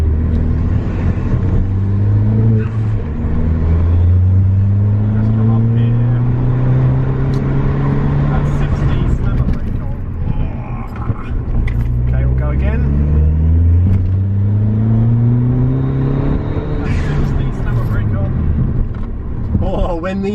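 A Ford Fiesta ST180 accelerates with a loud rising engine drone, then slows hard under heavy braking as the engine note falls, before picking up again. Road and cabin rumble run throughout, with someone talking over it.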